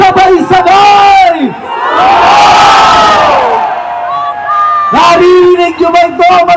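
A large protest crowd at Liwasang Bonifacio in Manila roars in unison, a swelling mass shout in the middle, with a loud amplified speaker talking before and after it.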